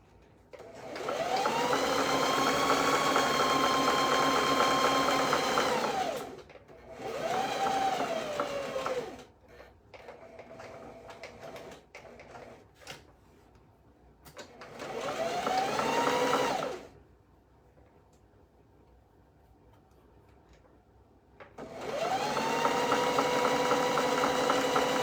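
A sewing machine stitches fabric in several bursts of steady whirring, starting and slowing with each run, separated by quiet pauses with faint handling clicks; close and moderately loud.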